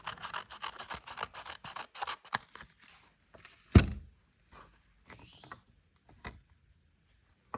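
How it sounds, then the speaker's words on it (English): Scissors snipping washi tape into flower and leaf shapes, a fast run of close, crisp cuts that slows into a few scattered snips and light paper rustles, with one louder knock partway through and no talking. "So I'm just going to trim these sides because the mini machine is only basically the width of the washi tape."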